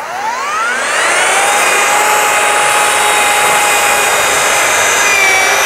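Rotary polisher running with a 600 grit interface pad and Maverick grease on the stainless steel body of a DeLorean DMC-12, spinning up quickly, then a loud steady whine with slight pitch shifts, no talk.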